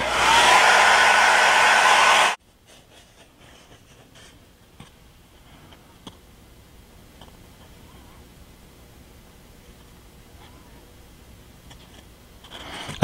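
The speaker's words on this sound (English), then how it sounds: "Now we'll speed things up and use a hairdryer on it." A hair dryer blows loud and steady on freshly painted model clapboard for about two seconds, then cuts off abruptly, leaving quiet room tone with faint ticks and small handling sounds.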